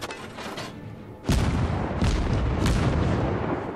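A heavy battleship shell fired in the video game World of Warships: a sudden loud boom at about a second in, then a long rumbling roar that swells again as the blast rolls on.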